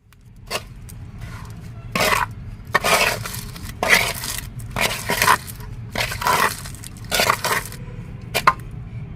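A wooden stick mixes homemade plant fertilizer in a container, making repeated close, wet scraping and squelching strokes in an irregular rhythm, with no talking.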